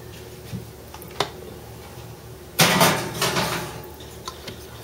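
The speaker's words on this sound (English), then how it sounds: "I'll go ahead and pop these in the oven." A baking dish of stuffed poblano peppers goes into the oven: two faint clicks, then a loud metallic clatter and sliding rattle that fades over a second or so, heard close with no talk.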